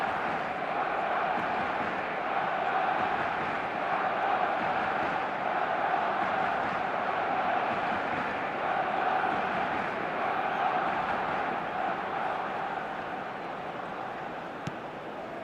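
A massive stadium crowd roars without letup after a goal in an eFootball World Cup semi-final between Argentina and England, a dense, steady wall of cheering that holds for the whole stretch.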